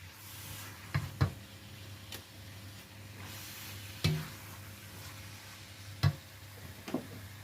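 Tuna sautés in a pan for noodles, a low steady fry under a handful of sharp spoon-on-pan knocks spaced a second or two apart, quiet and close with no talk.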